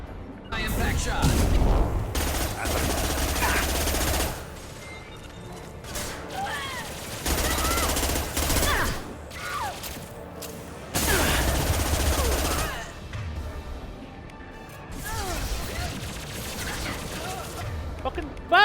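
High-impact gunshots in Mass Effect 2 come in several separate heavy volleys, each a couple of seconds long with pauses between, loud and booming, with a voice talking in places.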